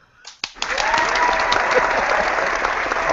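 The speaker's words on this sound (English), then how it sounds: "I want everybody to give her a round of applause." Audience applause at an evidence discussion gathering, starting after a couple of sharp knocks and swelling into a steady, fairly loud wash of clapping that continues to the end.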